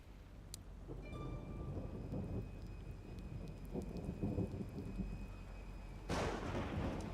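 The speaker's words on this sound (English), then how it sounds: "Or just this rain shower." Rain and rolling thunder in the video game Indiana Jones and the Great Circle, a low steady rumble under a rain hiss, with a few faint tonal sounds and a burst of heavier rain near the end.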